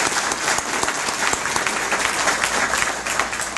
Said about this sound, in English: If we could give them a quick round of applause